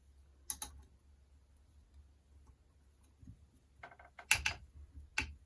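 A small bearing puller works a crank bearing off a vintage Puch Maxi E50 moped engine, giving a few sharp metallic clicks and ratcheting taps in a quiet room.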